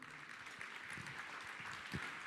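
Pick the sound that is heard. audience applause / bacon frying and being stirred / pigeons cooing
audience applause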